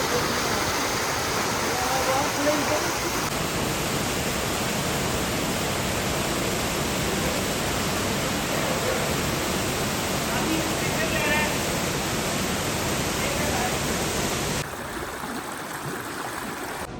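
A waterfall roars loud and steady as a broad wall of rushing water that fills the air without a break, easing slightly near the end.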